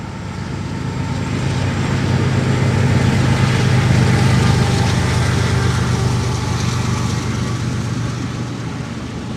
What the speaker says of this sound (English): Alright, I hear a train coming.